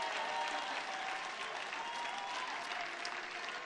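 A church congregation gives a sustained clap offering, dense steady clapping that fills the room evenly for several seconds without a break.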